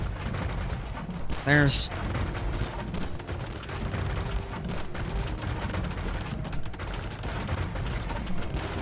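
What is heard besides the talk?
cannon galleons firing, from a video game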